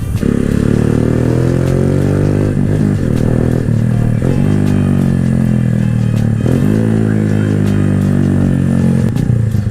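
A Keeway Cafe Racer 152 motorcycle engine revs close up, pitch climbing then dropping at each gear shift through first, second and third, repeated several times in a loud, continuous drone.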